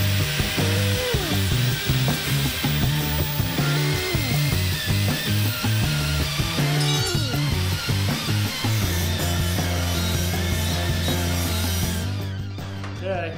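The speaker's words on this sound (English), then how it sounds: "take these over to that grinder and like just polish these little corners off" A grinder polishes small metal corners in a workshop, giving a loud, continuous grinding whine whose pitch wavers as the pieces are pressed and shifted. It eases off slightly near the end.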